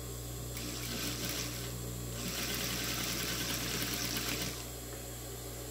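A sewing machine stitching the hem of a white cotton dish towel, a steady whirring run of a few seconds over a constant background hum, close and with no talk.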